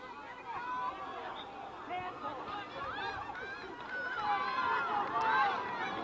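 Spectators at a girls high school soccer match make a rising murmur of disgruntled groans and chatter, building toward the end, with a commentator's voice over it.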